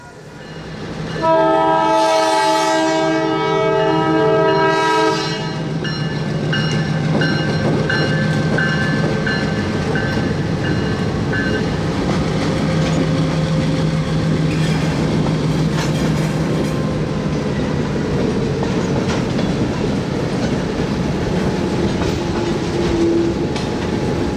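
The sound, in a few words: approaching train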